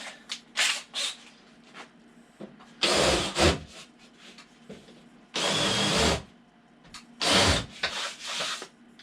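A power drill countersinks screw holes in a wooden bonsai backdrop, several separate loud whirring bursts of a second or so, with quiet handling and shuffling noises in the gaps between them.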